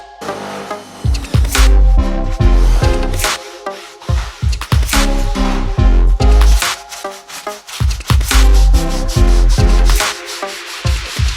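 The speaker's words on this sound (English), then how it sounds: "our trusty drill brush with the softest brush attachment on it to deal with, you know, the majority of the dirt in the roof" A drill brush with its softest bristle attachment scrubs a mouldy, faded fabric convertible roof, giving loud rhythmic rubbing strokes with sharp bursts, close up and with no talking.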